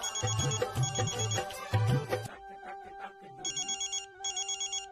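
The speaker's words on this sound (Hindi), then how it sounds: "माधव बाबू का फोन।" A telephone rings in a household during a mehndi gathering, its repeating electronic ringtone bursts cutting in over background music, clear and fairly loud with short pauses between rings.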